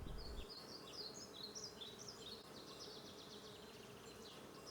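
Honeybees swarm around relocated beehives in Saint-Prix, making a dense, continuous buzz close by, with faint bird chirps above it.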